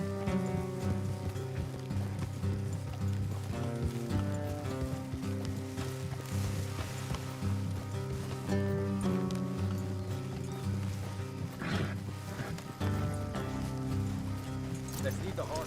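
Horses gallop in the video game Red Dead Redemption 2, their hooves a steady, busy clip-clop under a dense bed of orchestral music and ambient noise, continuing throughout at moderate loudness.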